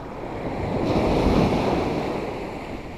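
Sea waves wash onto a sandy shore during a fishing outing, a near, loud rushing surge that swells and then recedes, with wind buffeting the microphone and no voices.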